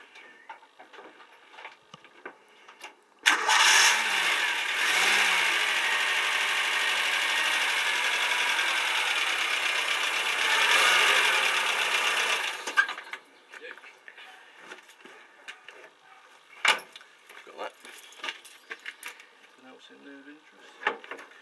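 A brand-new motorhome's petrol engine cranks and fires up, a loud steady running roar for about ten seconds before cutting off, followed by quieter clicks and knocks.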